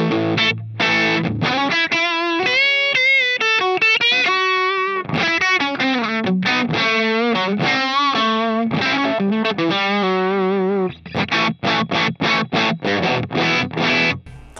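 Electric guitar played through a Line 6 Helix amp model with firmware 2.60, loud distorted riffs and sustained chords with chorus-like shimmer, ending in a run of sharp staccato chord stabs; no talking.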